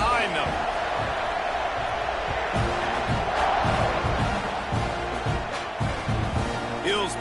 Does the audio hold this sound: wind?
no